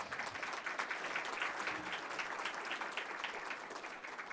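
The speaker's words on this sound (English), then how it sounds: "So let's give him a big applause." Audience applause at a panel discussion on election results, a steady, moderately distant patter of many hands that continues evenly throughout, with no talking over it.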